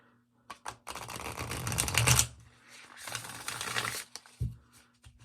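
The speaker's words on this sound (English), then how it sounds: "I'll show you how it shuffles." A Dark Mansion tarot deck is shuffled up close, with two long riffling bursts of cards slapping and fluttering together, framed by brief taps and a slight sticking drag.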